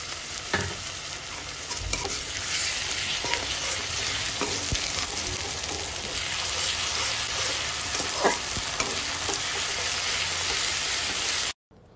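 Browned onions fry with ginger-garlic paste in a pan, a dense steady sizzle with stirring scrapes running loud and continuous for nearly twelve seconds before cutting off abruptly.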